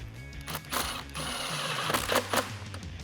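A clamp on a cold air intake is tightened down on a 2019-2020 RAM 1500 5.7L, giving quiet close-up mechanical clicks and ratcheting scrapes in short bursts.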